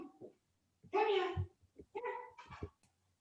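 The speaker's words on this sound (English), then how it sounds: "Now I'm just hearing him bark." A dog barks in several bursts indoors, loud and close, with a person's voice also heard nearby.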